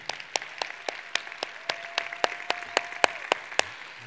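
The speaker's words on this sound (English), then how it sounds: "let's give a nice round of applause for Carolyn and the entire Cruise 360 team." Evenly spaced, crisp hand claps ring out at a 2021 Cruise360 conference general session, about a dozen distinct claps in steady rhythm over a quiet hall with a faint sustained tone.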